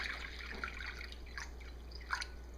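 Water for a lye soap mixture, measured out at a 2-to-1 water to lye ratio, pours and drips faintly in a quiet room, soft uneven trickles and splashes.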